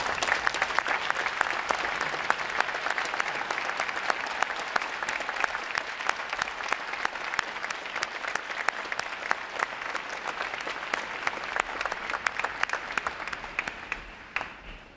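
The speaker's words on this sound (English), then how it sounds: "Would all our veterans please rise so we give you a round of applause" A large crowd at a U.S. Navy recruit training graduation ceremony applauds veterans with sustained, even clapping lasting about fifteen seconds, a dense steady roar of hands that thins slightly at the very end.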